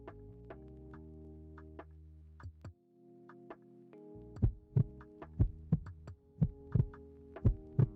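A trading platform's heartbeat indicator gives a synthetic throbbing pulse over a low sustained hum, faint at first, then turning into loud, regular thumps about twice a second, with no talking.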